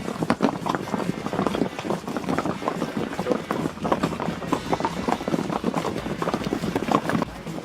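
Horse hooves clip-clop in a quick, steady rhythm on a Costa Rica outing, close and fairly loud, with people talking intermittently alongside.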